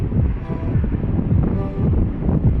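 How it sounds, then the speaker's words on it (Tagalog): Strong wind buffeting a microphone aboard a ship at sea bound for Marinduque, a loud, constant low roar and rumble with no talking. "lakas ang hangin"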